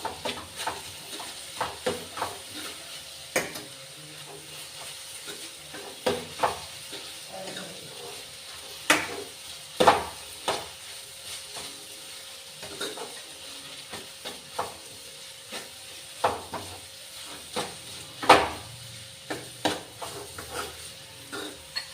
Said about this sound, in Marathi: आपला तुपामध्ये फ्राय होत आहे